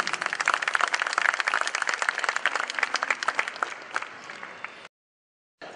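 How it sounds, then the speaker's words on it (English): A festival crowd at the Kala Ghoda art festival applauds Mrs. Chanda Runwal, with loud, dense clapping that gradually thins, then cuts to silence before a brief return. "Can we please have a round of applause for Mrs. Chanda Runwal, please?"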